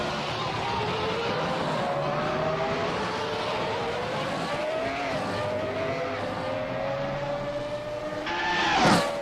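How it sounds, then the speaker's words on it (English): A race car's gearbox and engine in Assetto Corsa, heard from a distance as a steady racing whine that climbs in pitch and steps down at each gear change, with a louder surge near the end. "Even from that far we can hear the gearbox, so once the gear changes, just making that sound."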